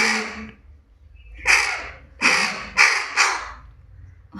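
A crow caws four times in quick succession, loud and close on a farm, with harsh raspy calls separated by short quiet gaps.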